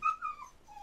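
Dogs on a trail-running team let out a short, close whine with thin whimpering and whistle-like tones that fade within a second.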